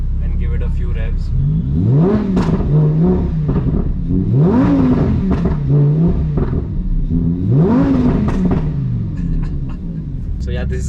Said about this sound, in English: So let's just stop and give it a few revs.